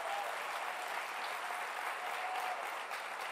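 A church audience claps in a sustained, even burst of applause, many hands blending into a continuous roar that holds steady from start to finish.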